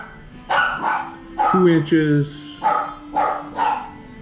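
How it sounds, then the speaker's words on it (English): Two dogs bark indoors, a short run of sharp barks and yips mid-clip, mixed in with someone talking nearby. "My 2 dogs are cutting up."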